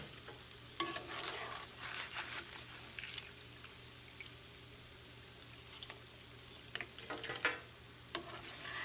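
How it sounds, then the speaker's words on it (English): Corn tortillas frying in hot oil for chips, a soft steady sizzle with occasional stirring and clinks of a utensil, no talking. "I'm gonna continue frying our flour tortillas into little chips, and these get fried quickly"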